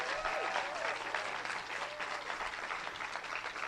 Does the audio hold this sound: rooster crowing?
no